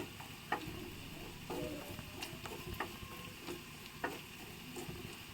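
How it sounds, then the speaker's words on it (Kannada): Chana dal being dry roasted in a pan without oil and stirred with a spoon, giving soft scraping strokes and light ticks at an irregular pace over a faint sizzle, quiet and close. "ಇದನ್ನು ಚೆನ್ನಾಗಿ ಬಾಡಿಸ್ಕೊಳ್ಳೋಣ ಬೇಕಿದ್ರೆ ಸ್ವಲ್ಪ ಎಣ್ಣೆನೂ ಹಾಕಿ ಬಾಡಿಸ್ಕೋಬೋದು ನಾನಿಲ್ಲಿ ಹಾಗೇ ಡ್ರೈ ರೋಸ್ಟ್ ಮಾಡ್ಕೋತಾ ಇದ್ದೀನಿ"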